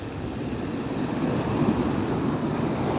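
Surf breaking on a New Jersey beach along a sandbar, a steady broadband wash of rolling waves with wind noise, fairly loud and continuous throughout, with no voices.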